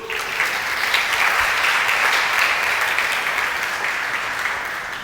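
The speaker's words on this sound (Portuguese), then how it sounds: "Dê uma salva de palmas aí ao Senhor" A church congregation breaks into loud, sustained clapping for the Lord, a thick continuous wash of hands heard close and full for several seconds without speech.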